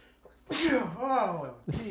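A close, loud sneeze with a drawn-out voiced tail, followed by the sharp start of another.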